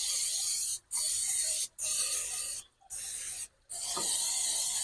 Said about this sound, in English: But I am going to spray my pot